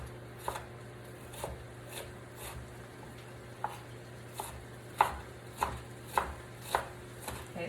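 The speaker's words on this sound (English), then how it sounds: "So the next we're gonna do is just chop up this onion. We're gonna do a quick dice on it." A knife dices an onion on a cutting board, with sharp chopping knocks at irregular intervals, sparse at first and then coming in a quicker run near the end.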